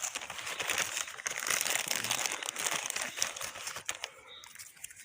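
A paper candy wrapper crinkles close up, a dense run of crackling rustles for several seconds that thins out toward the end, with no talk.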